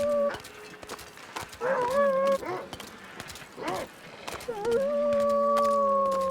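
A bugged-out wolf in The Long Dark game lets out a strange, eerie growl, rising and falling in drawn-out, howl-like tones through several bursts against a dark ambient background.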